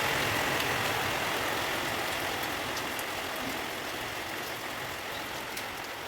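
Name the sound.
rain falling in the early morning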